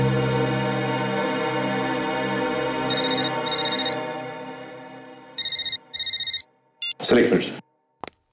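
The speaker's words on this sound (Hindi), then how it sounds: "बार बार क्यों फोन आ रहे हैं इसके?" A mobile phone ringtone plays in two short bursts of repeating electronic tones over a tense crime-drama music bed in a police setting, followed by brief whooshing effects.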